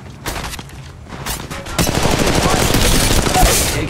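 Video game gunfire in rapid bursts, first a few scattered shots, then a dense, loud continuous volley of automatic fire at close range, with a faint voice underneath.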